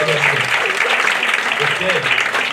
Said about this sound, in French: Ouais, allez, applaudissez, allez.